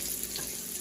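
Bacon sizzling in a pan, a brief steady hiss and crackle of frying fat, close and even.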